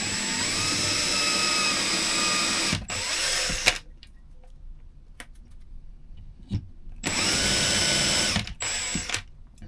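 A power drill boring a hole, running loudly near the microphone in two sustained bursts. A quiet pause with faint clicks and handling sounds separates them.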